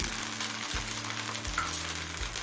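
Chicken pieces stirred and tossed in a hot frying pan for mixed chow mein, with a steady close sizzle and low clattering pulses from the stirring, no voices.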